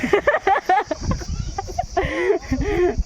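Chickens cluck in quick bursts close by, several birds calling over one another with short pauses between.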